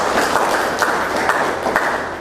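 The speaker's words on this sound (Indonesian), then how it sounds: "Berikan tepuk tangan untuk Pak Wais" A classroom of students clapping for their teacher, giving a short, fairly close burst of steady applause that tapers off slightly toward the end, with no talking.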